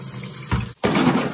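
Water rushes through a commercial steam boiler during a service flush, a steady close gushing flow that cuts out for a split second and then surges back.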